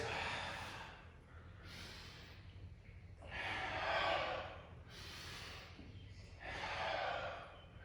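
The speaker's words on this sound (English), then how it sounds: "Big expansive breath into our ribs." Deep, slow breaths during a bodyweight strength and mobility workout, three long airy inhales swelling and fading in a steady rhythm, close and moderately loud, with no talking.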